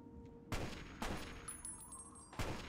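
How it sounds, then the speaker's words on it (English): Sharp gunshots from raiders in Fallout 3, three distinct cracks spaced irregularly over a few seconds, fairly quiet and distant-sounding over a low background. "Is that what you're shooting at?"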